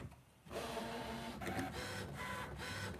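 A Brother ScanNCut cutting machine using a foiling kit starts after a brief pause and runs with a steady whirring motor, broken by rhythmic buzzing strokes and short pauses as the head moves, quiet and close.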